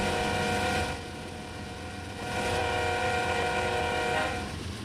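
A cargo train in a train simulator game, on an iconic United States freight line, rumbles loudly toward a tunnel, its steady roar swelling and easing beneath a sustained horn-like tone.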